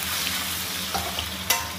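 Ginger, scallion and garlic sizzle in hot oil while being stir-fried in a wok, a loud continuous crackling hiss with a couple of sharper clicks from the spatula near the end.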